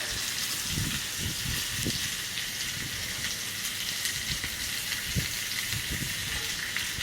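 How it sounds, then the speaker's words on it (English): Butter melts in a pan alongside a seared steak, a steady dense sizzle with soft crackles and pops throughout, fairly close and with no voices. "you're going to take your butter and let that butter just melt in your pan"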